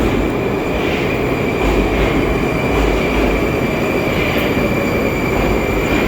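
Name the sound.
metro train arriving at station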